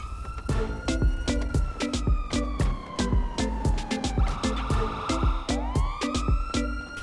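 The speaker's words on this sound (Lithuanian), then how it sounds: "Policija žiūri atvažiuoja" A wailing police siren in a driving video game sweeps up and down continuously over rapid, rhythmic clicking and thumping game sounds, loud and close throughout.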